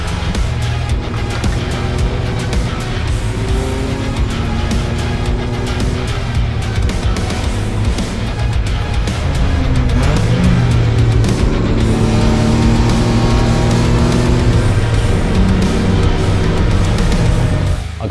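Kei car racing on a track during a 24-hour endurance race, a loud continuous engine drone from inside the car with pitch rising and falling through gear changes and throttle shifts.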